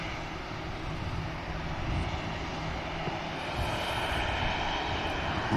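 At Manchester Airport, an EasyJet airliner rolls onto the Victor Alpha taxiway, its engines giving a steady, fairly loud whine and rumble that edges up slightly near the end, with no talking.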